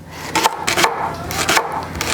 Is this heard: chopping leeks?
yes